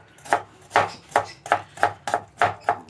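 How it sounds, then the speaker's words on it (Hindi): A knife chops through onion on a cutting board in eight crisp, evenly spaced strokes, close and clear, with no voices. "आपने इसको अच्छी तरह काट लेना प्याज को"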